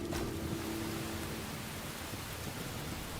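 Rain in the survival video game Enshrouded hisses as a faint, even wash of noise with low rumbling texture throughout, no speech over it.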